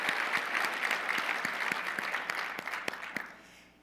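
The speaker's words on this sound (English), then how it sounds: "Good, let's give that applause," An audience at the Port of Long Beach State of the Port 2018 event breaks into applause, a full round of clapping with a few louder distinct claps that thins and fades out toward the end.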